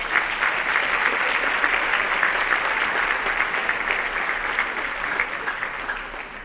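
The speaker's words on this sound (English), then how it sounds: "Let's give them a round of applause" Conference audience at a health care plenary applauding sponsors, a steady, full crowd clapping that holds at an even level throughout before easing slightly at the close.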